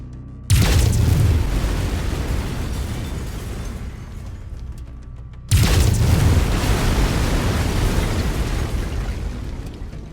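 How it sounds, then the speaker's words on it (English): Mech laser volleys in MechWarrior 5: Mercenaries, two loud sustained roaring bursts a few seconds apart, each hitting hard and then fading slowly, with no talk. "Lasers are master weapon group 2. Fire them when ready."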